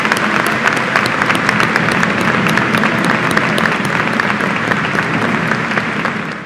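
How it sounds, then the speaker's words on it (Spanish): A large crowd of pilgrims from Aguascalientes applauds in honor of Our Lady at the Basilica, a loud, continuous wash of clapping that holds steady throughout and tapers slightly at the end. "Le damos un fuerte aplauso a Nuestra Señora del Cielo"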